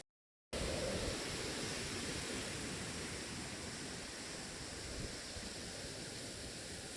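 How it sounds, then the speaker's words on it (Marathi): Waterfall at Shidkhada pouring down nearby, a loud, steady broadband rush that starts abruptly after a moment of silence and stays constant. "आणि अखेरीस आपण धबधब्याच्या खाली येऊन पोचलो आहोत."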